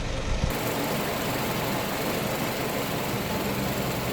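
A motor idles steadily and lugs at low RPM while its ignition timing is adjusted by ear, a constant close rumble with no voices over it.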